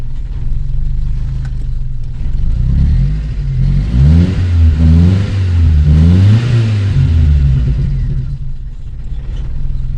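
A Mitsubishi Colt engine running at a low, slightly uneven idle, close and loud, with a few rising and falling rev swells in the middle before settling back to idle.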